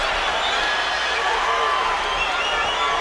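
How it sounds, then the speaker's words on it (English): A boxing crowd at the Crawford versus Beltran fight stirs with a dense, distant roar of cheering and murmuring that carries steadily beneath the action, with no clear talking. "Crowd wakes up just a little bit as Beltran manages to threaten Crawford a couple of times in the center of the ring."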